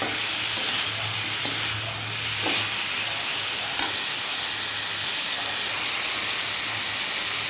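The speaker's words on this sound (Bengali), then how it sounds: "এবারে আমি কাঁচা লঙ্কাটা দিয়ে দিচ্ছি" Green chilies hit a hot pan and are stirred, producing a continuous loud hissing sizzle with a few faint scraping taps, close and unbroken.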